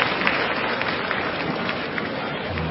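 Applause from the crowd in a sumo arena at the Fukuoka Kokusai Center during the November Kyushu tournament, a continuous rough patter of clapping at moderate distance, steady throughout with no clear speech.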